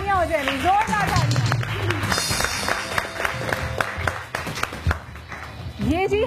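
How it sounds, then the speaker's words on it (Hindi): An audience claps loudly in scattered bursts while someone talks energetically over the applause. "जबरदस्त जोरदार तालियां हो जाएंगी, जोरदार तालियां"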